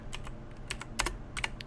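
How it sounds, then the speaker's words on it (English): Loud, clacky computer keyboard typing picked up by a microphone pressed right against the keys, a quick irregular run of sharp clicks close up with no voices. "the microphone's right up against the keyboard, so everybody's just gonna hear every keyboard clack?"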